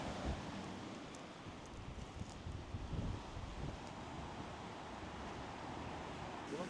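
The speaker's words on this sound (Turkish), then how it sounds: "Çok güzel dalga var." Sea waves on Boğazkent beach, a soft continuous surf wash blended with wind buffeting the microphone, fairly faint and distant, steady over several seconds with no talking.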